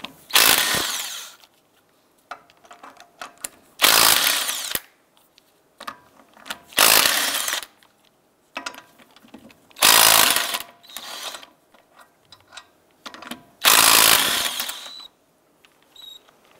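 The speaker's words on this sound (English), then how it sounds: "Using a 19mm socket, go ahead and remove the lug nuts." A power impact tool spins lug nuts off a Ford Escape wheel with a 19mm socket, giving loud bursts of about a second each at regular intervals, with quieter ratcheting and clinks between them.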